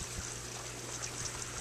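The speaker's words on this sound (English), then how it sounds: "And the water drains back into the sump." Water drains from an aquaponics grow bed of rock back into the sump, a faint, steady trickling and splashing that runs continuously with no talking.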